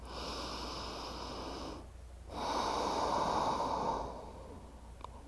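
Slow, deep breathing during a restorative yoga stretch, two long soft breaths separated by a brief pause, close and quiet with a steady airy hiss and no talking.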